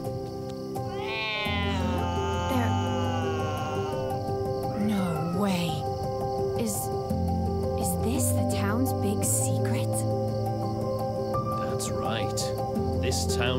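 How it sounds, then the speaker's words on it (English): Cats meowing in the video game The Good Life, several drawn-out, pitch-bending meows and caterwauls rising over a loud, sustained musical and ambient game backdrop, with a voice talking at points. "There's cats and dogs all over the place."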